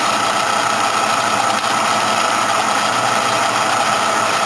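A cylinder boring machine runs steadily as its boring bar feeds down into an engine cylinder during sleeve installation, a loud, constant mechanical hum and whine without break.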